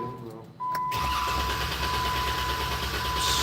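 A car with a Mopar 3.6 engine cranks steadily but never fires, its fuel pump fuse pulled; a continuous mechanical whirring drone runs for about three seconds, close and loud.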